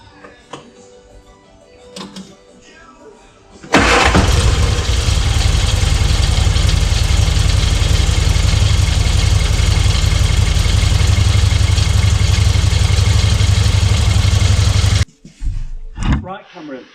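Austin-Healey Frogeye Sprite engine cranks and catches abruptly, then settles into a loud, steady, close idle for about eleven seconds before cutting off, with people talking before and after.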